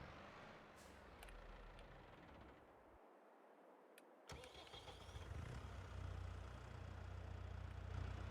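A brand-new tractor in a farming survival video game cranks and starts, a brief mechanical clunk followed by a low diesel idle that builds into a steady rumble.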